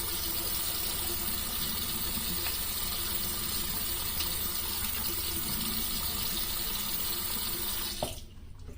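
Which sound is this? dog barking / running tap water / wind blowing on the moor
running tap water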